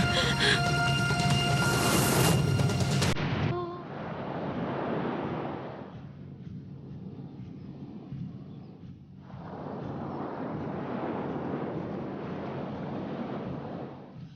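Waves on a calm sea wash in a steady, broad surf roar, loud and close at first, then settling into softer rolling swells that ease off briefly and return; no talking.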